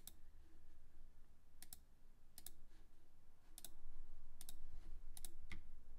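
Key presses on a computer keyboard during 3D design software game controls, several sharp separate clicks spaced irregularly over a faint steady background hum, quiet and close.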